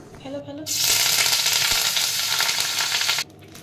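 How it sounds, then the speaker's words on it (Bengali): Dry red chillies and curry leaves dropped into hot butter for a dal tempering burst into a loud, even sizzle that runs for about two and a half seconds, then cuts off abruptly, with a brief murmur before it starts. "তার মধ্যে একটুখানি শুকনো লঙ্কা আর কারি পাতা ফোড়ন দিয়ে দিলাম।"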